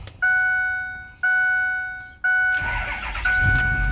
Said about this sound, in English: Here's a cold start.